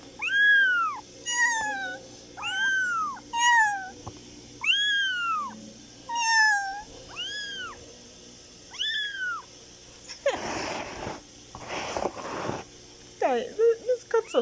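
Newborn kittens of a wild cat meow repeatedly, high thin cries close by in a rhythmic series, followed by rustling and handling noises, with a person speaking softly in the background.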